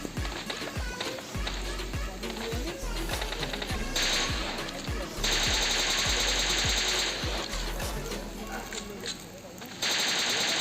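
Gunfire in the mobile battle royale game PUBG Lite, loud rapid automatic bursts and single shots repeating steadily over a dense layer of game sound and bright high-pitched hiss.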